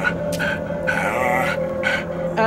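Dog barking in the horror video game Pavor Nocturnus, a few short yelps and barks over a steady droning game background, fairly close and clear, with no talking.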